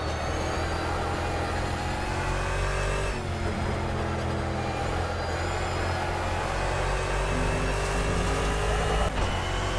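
A Corvette C7.R GT race car at the Nürburgring in Project CARS, its engine droning steadily and loudly with rising revs and a brief gear change, continuous throughout with no talking.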